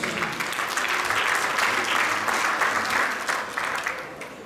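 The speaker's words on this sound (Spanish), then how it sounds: "Fuerte el aplauso a nuestro Dios." Audience at a church raffle event applauds vigorously, a thick, continuous patter of many hands clapping that fades slightly toward the end.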